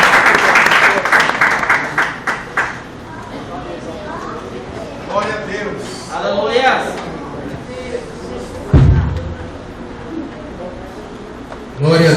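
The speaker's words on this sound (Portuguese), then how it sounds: "E aplauda o nome do Senhor Jesus." A youth congress congregation applauds loudly in a burst that fades after a few seconds, followed by quieter murmuring and voices in the hall, with a brief loud thump near the end.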